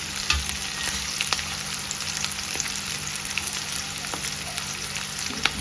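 Onions frying in oil for gobi manchurian gravy give a dense, continuous close sizzle with light scraping stirs throughout, steady and unbroken, with no voices over it.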